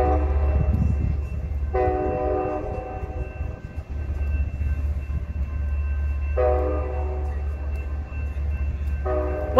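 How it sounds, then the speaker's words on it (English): A train rumbles past Jack London Square in Oakland, California, steadily while its horn sounds three times, long blasts with pauses between them, loud and close. "What train was it, Marcel?"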